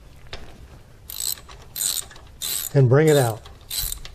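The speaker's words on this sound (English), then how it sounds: "to get at the spark plug, you'll need your 5/8 spark plug socket and a long extension" A ratchet with a 5/8 spark plug socket and long extension works a spark plug loose on a Suzuki SX4, giving several short close metallic clicking bursts, with a brief voice speaking partway through.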